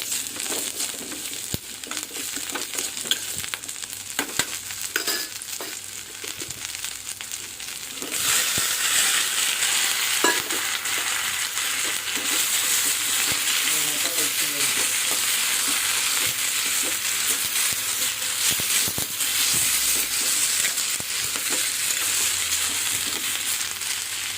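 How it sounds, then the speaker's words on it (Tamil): Coconut, garlic and onion fry in a pan with a loud, steady sizzle that jumps up sharply partway through, with stirring scrapes along the way and no talking. "தேங்காயும் பூண்டு வெங்காயம்லாம் ஒன்றா போட்டுக்கலாம்"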